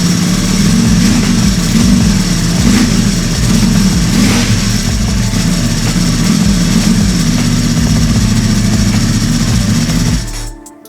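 Ducati Panigale V4 SP2 engine running in gear on a dyno with cylinder deactivation, a loud, steady, uneven throbbing drone that holds for about ten seconds before cutting off abruptly at the end.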